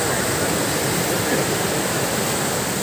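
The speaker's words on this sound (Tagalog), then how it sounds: "Ayan po yung dagat dito sa Real Quezon." Sea waves washing onto the beach at Real, Quezon, a loud, steady broadband roar of surf close by, continuous with no distinct breaks.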